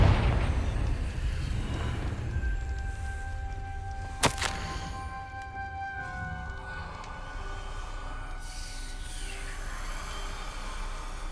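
Confringo blasting spell explosion in Hogwarts Legacy, a single sharp blast landing a few seconds in over a steady rumbling game ambience with sustained tonal hums.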